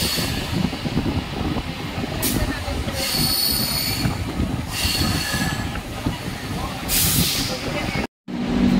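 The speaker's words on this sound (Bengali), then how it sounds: "এই সাঁতরাগাছি মেছেদা লোকাল যে ট্রেনটা করে আমি আজ দীঘায় যাবো, সেই ট্রেন সবে ঢুকতে দেখুন।" A Santragachi–Mecheda local train rolls into Santragachi station, its wheels squealing and hissing loudly over a steady rumble of carriages, with several sharp bursts of squeal.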